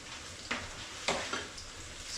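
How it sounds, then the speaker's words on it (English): Pumpkin dumplings frying in oil, a soft steady sizzle broken by a few scraping stirs and a brief clatter at the end. "frying some pumpkin dumpling"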